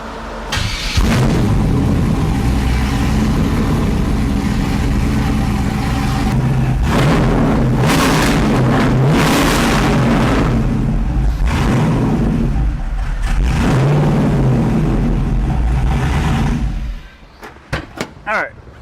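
A 408 LS V8 swapped into a 1981 Pontiac Trans Am idles with a loud, steady rumble that holds close for about seventeen seconds. It then cuts out, and a few brief clanks follow.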